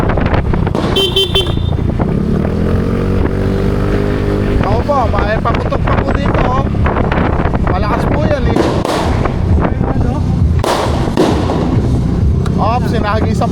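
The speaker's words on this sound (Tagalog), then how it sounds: "Ops, sinahagisan po kami ng paputok." Firecrackers thrown at riders in a street go off in loud crackling bursts near the riders, mixed with traffic noise, car horns and the people talking and shouting.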